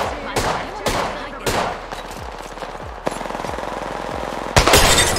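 Rapid automatic gunfire from an Apex Legends battle, several loud bursts and single cracks with fading echo tails, one sharp shot midway and a heavy burst near the end.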